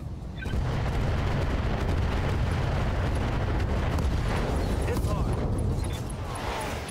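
Long-range missile barrage fired by mechs in the Battletech video game (Roguetech mod), a dense continuous roar of rumbling launches and blasts that stays loud throughout.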